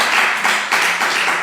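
A church congregation at a worship service claps together in acclamation in quick, steady bursts, a dense wash of hands sounding close and lively with no talking.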